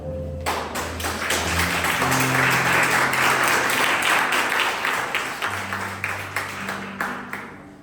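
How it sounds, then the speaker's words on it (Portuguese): A church congregation breaks into loud applause that swells quickly, holds, then thins out into scattered claps near the end. "Uma salva de palmas."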